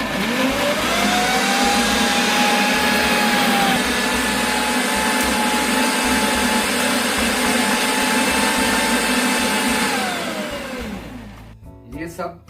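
Kitchen mixer grinder blending cooked mushroom coconut curry: a loud, steady high-pitched motor whine with a rough churning roar runs for about ten seconds, then winds down and stops with a few rattles.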